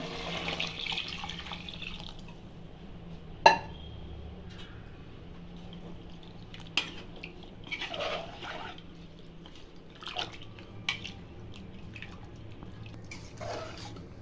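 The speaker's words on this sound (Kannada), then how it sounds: "ಅಲ್ಲಿ ಮೂರು ಗ್ಲಾಸ್ ನೀರು ಬಿಸಿನೀರು ಹಾಕ್ತಾ ಇದ್ದೀನಿ" Hot water, about three glasses, poured onto soaked rice in a pressure cooker for chicken biryani: a soft, continuous trickle over a steady low hum, with a few light clinks and splashes along the way.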